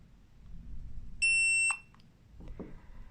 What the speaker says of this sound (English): Enter settings mode by holding the set button until you hear a beep